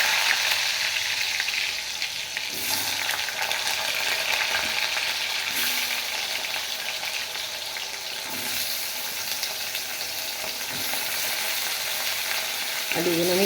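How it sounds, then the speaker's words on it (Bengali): Potatoes fry in hot cooking oil in a wok, giving a steady, even hiss and crackle of sizzling with occasional soft stirring scrapes, close by and without talk. "আলুগুলো আমি লাল লাল করে ভেজে নেব।"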